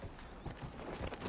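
Horse hooves clip-clopping in the fantasy game Dragon Age: Inquisition, a short run of soft, regular hoof falls heard close up.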